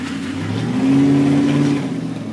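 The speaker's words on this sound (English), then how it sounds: "Now I can hear your truck, it's way better." A Chevrolet Silverado pickup's engine revs up and holds a high, droning note before easing off, loud and close with no talk over it.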